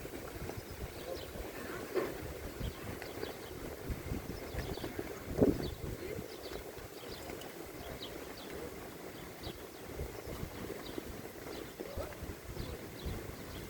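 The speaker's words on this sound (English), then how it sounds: "Yes, it's windy." Outdoor wind buffeting the microphone at a spot where sparrows are being fed, a low rumbling gusty roar that persists throughout with a few brief bumps and faint background sounds.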